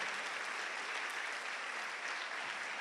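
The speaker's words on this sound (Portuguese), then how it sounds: "dê uma salva de palmas a Jesus" Steady, dense applause from a large church congregation, many hands clapping at once for about three seconds without a break.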